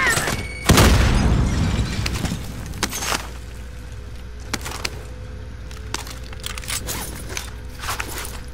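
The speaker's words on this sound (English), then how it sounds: "Hold on, grenade!" In Call of Duty Modern Warfare, a grenade bursts with a loud, close boom and crackling debris, followed by scattered crunching impacts and footsteps fading through the rest.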